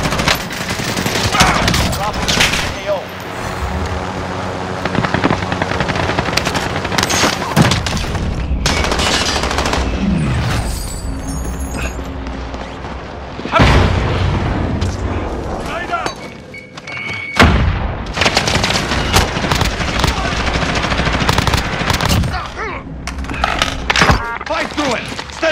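Call of Duty combat with dense, loud machine-gun bursts and rapid gunfire volleys filling nearly the whole stretch, punctuated by heavy thuds and brief lulls, with voices calling out between the shots.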